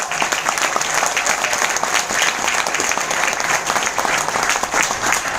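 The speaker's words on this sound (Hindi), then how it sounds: "तो उनके लिए तालियां" An audience applauds Praveen Joshi at an event in Bombay, a dense, steady wash of many hands clapping together, loud and sustained throughout with a faint murmur of voices underneath.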